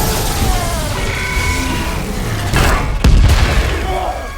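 Robots shooting in a film scene, a dense rumbling barrage of gunfire and booming impacts with a louder burst of blasts near the end, heavy and continuous throughout.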